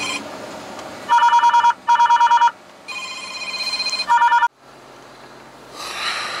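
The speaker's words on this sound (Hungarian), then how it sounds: "Bocsánat, közben kaptam egy telefonhívást" A phone rings with an incoming call, repeated bursts of electronic ringtone tones in distinct groups, loud and close, with quieter background noise between bursts and no talking.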